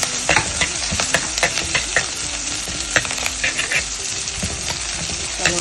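Ginger and green chilli frying with onion in a hot pan for a vegetarian fish-style curry: a continuous close sizzle broken by repeated scraping stirs.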